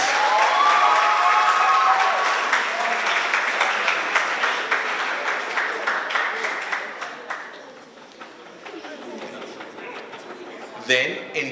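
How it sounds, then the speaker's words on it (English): An audience at a school robotics challenge prize ceremony claps loudly and steadily, with cheers and chatter, the applause thinning out toward the end. "Let's just give a round of applause."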